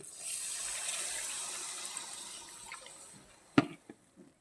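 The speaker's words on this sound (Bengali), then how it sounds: "এই পর্যায়ে আমি দিয়ে দেব জল" Water poured into a pan of simmering fish curry made with katla fish, a steady soft pouring wash for about three seconds, then a few sharper splashes and drips as it settles.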